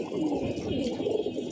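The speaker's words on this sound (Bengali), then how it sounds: "এই যে মাদি কবুতরগুলা," A group of moulting female pigeons coos steadily, soft rolling calls overlapping one another nearby with no pauses and no voices.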